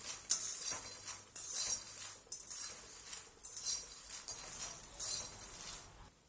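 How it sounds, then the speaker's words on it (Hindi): Fox nuts roasting in ghee: soft rustling and stirring with a light sizzle, occasional scrapes of a spoon against the pan, steady and close, no talking. "अब हम इसी घी में मखाने डाल करके भून लेंगे। मखानों को अच्छी तरह से भून लेंगे।"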